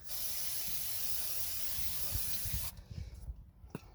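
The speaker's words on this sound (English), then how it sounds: "get some brake cleaner," Brake cleaner sprays in a steady, loud aerosol hiss onto brake parts of a Ford Fiesta Mk6 for about two and a half seconds, then cuts off, leaving light handling clatter.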